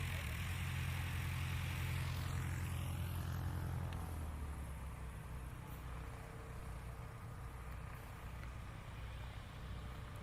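A STOL aircraft taxis off the runway at a practice event, its engine a low, steady droning rumble that is louder at first and eases slightly after a few seconds, with a broad wash of wind and ambient noise.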